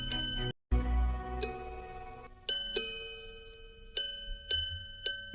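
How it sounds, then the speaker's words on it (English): A Patek Philippe minute repeater wristwatch strikes a series of clear, bright gong tones close up, the single ringing notes spaced out and decaying between hits after a brief muffled handling sound. "There's the minute repeater."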